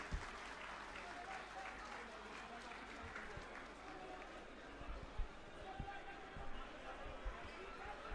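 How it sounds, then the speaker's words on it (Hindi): A crowd at an outdoor political rally in Delhi claps and cheers, a continuous rough wash of applause and chatter with a few louder thumps, heard at moderate distance with voices mixed in. "आतिशी जी के लिए जोरदार तालियां।"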